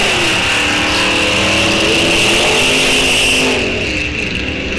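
A Ford Fairlane drag racing car launches at a drag strip, its engine a loud, steady, close roar with strong droning harmonics that holds for the full stretch and eases slightly near the end.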